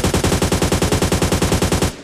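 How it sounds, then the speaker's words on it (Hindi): Rapid automatic gunfire in PUBG Mobile Lite, a steady rattling stream of loud shots for about two seconds, ending abruptly. "यहाँ से देखो गनशॉट्स की आवाज आई,"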